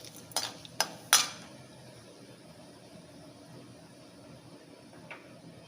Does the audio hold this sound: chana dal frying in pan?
yes